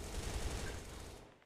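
Rapid automatic gunfire from an HK-style rifle in a shooter game, a dense, loud burst of shots that fades out over its final moments.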